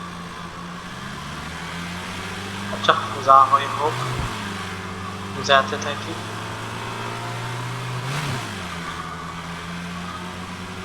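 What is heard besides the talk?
car engine in video game Drive Beyond Horizons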